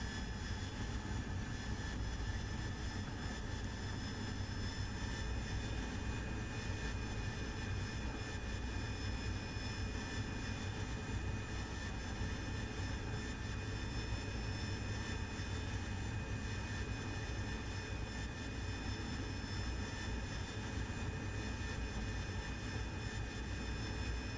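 Steady, continuous jet engine roar and whine of an AV-8B Harrier in the DCS World flight simulator, unchanging and constant throughout with no voices.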